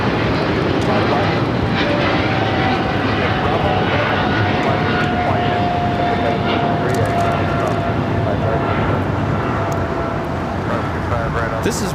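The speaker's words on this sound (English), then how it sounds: "This is British Airways Flight 280 taking off to London Heathrow on the 777-300ER." British Airways Boeing 777-300ER taking off from LAX, a loud, sustained jet engine roar rumbling throughout with a faint high whine, heard close at the airfield.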